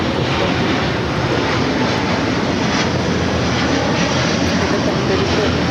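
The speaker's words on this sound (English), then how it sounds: "we finally got Flight 7, the A330neo heading to Tokyo Haneda" An Airbus A330neo jet takes off from Los Angeles airport bound for Tokyo Haneda, a loud, broad, unbroken roar of engines close by that stays constant throughout.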